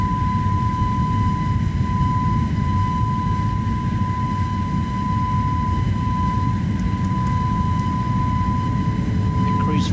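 Jet engines of an Airbus A321neo spool up to full takeoff thrust in Microsoft Flight Simulator, a steady loud broadband roar with a constant whining tone running throughout, with cockpit voices faintly underneath.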